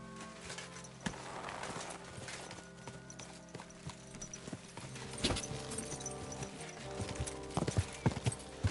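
A horse's hooves clip-clop steadily in the medieval game Kingdom Come Deliverance 2, with irregular thuds and clatters, a brief snort or whinny, and some sharper hits toward the end.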